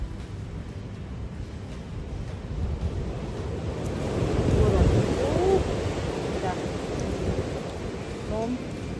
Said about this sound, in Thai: wind so strong guys